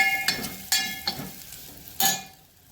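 Okra being stirred in a pan with grated coconut, turmeric, salt, brown sugar, amchur and red chili powder, giving a few sharp spoon scrapes and knocks against the pan over a soft sizzle.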